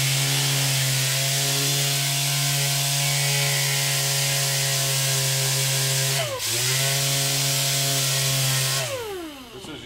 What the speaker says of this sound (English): Contour area that we're sanding down